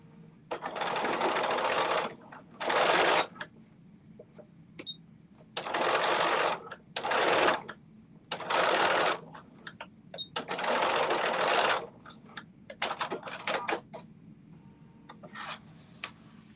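A sewing machine top stitches a leather-style belt wallet, its motor buzzing in several bursts of one to two seconds each, separated by short pauses and soft handling noises.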